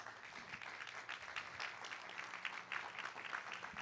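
Faint, diffuse applause from a church congregation, a soft continuous patter of many hands heard at a distance, with no voices over it.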